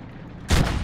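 A tank cannon fires in the video game World of Tanks, from an AMX 50B. A single loud, sharp blast breaks a quiet stretch and rumbles on briefly afterward.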